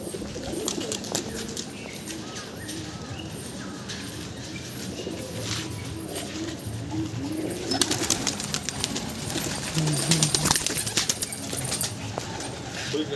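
A flock of roller pigeons cooing steadily on a rooftop, soft low murmurs layered under a busy background with occasional flapping and faint voices nearby.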